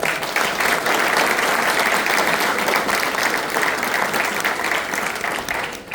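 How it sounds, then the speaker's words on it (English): A steady round of applause fills a school board meeting room, many people clapping continuously for several seconds before it begins to thin out at the end. "Can we have another round of applause for this?"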